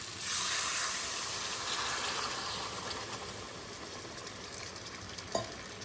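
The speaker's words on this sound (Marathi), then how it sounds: "आता याच्यामध्ये मी पाणी सोडते." Water added to a pan of frying masala and potatoes gives a steady hiss and sizzle that slowly eases, with one brief knock near the end; close, quiet, and no voices.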